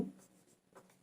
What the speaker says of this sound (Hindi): यहाँ पर मैं लिखता हूं